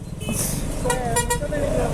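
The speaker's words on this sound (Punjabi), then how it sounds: "ਹਾਰਨ ਤੇ ਹੱਥ ਰੱਖ ਕੇ ਭੁੱਲ ਹੀ ਜਾਂਦੇ ਆ" A vehicle horn is held down at a railway crossing amid heavy traffic, sounding as wavering tonal blares over a constant low road rumble for the full two seconds.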